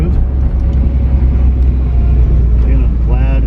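A 1985 VW Scirocco Mk2 engine with a rebuilt CIS fuel distributor idles steadily, a close, even low rumble running throughout with a voice talking over it.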